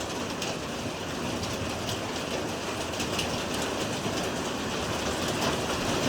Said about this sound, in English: You can hear the difference because the hail, you can hear it bouncing when it hits